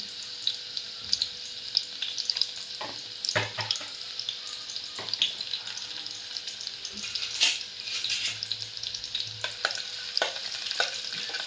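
Mustard seeds crackle and sizzle steadily in hot oil in a home kitchen, with onion soon to go in for a Marathi dried-fish curry; close, continuous frying hiss with scattered sharp pops and occasional utensil scrapes, no talking.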